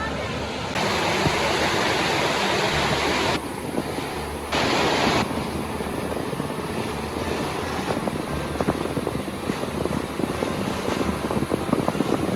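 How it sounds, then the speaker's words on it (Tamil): Steady rushing water flows continuously in a canal at Vavunikulam, Sri Lanka, with wind buffeting the microphone and faint voices underneath. "மிக அழகாக இந்த தண்ணீர் பாய்ந்து வாரதை நாங்கள் பார்க்கக்கூடியதாக இருக்கின்றது"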